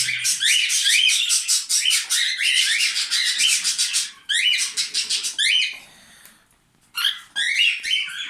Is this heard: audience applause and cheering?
no